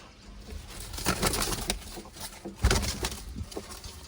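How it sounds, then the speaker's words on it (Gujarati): A pigeon kept for flying takes off from close by, its wings beating in a quick series of soft, whooshing flaps that swell and fade over a few seconds, with no voices. "આ છે બીજું કબૂતર ઉડવાવાળું આપણું"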